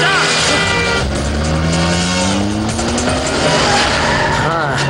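A speeding car in the Malayalam film Ravanan roars loudly, its engine pitch climbing while tyres squeal under hard braking, a dense continuous rush with voices mixed in.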